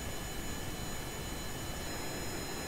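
A small airplane's engine cruises at altitude in a space program video game, a steady, unbroken drone with a thin whine on top. It stays loud and even throughout, with no talking.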